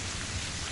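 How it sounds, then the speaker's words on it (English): Steady rain falls in the video game Terraria, an even, loud wash of drops with no break and no voices. "Is that rain? Oh yeah, that's rain."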